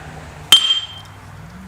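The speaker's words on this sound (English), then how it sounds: "you're getting a big brass hammer or something" A big brass hammer strikes a motorcycle brake disc on a 350 Bullet, giving one sharp metallic clink that rings briefly, followed by a softer second tap near the end.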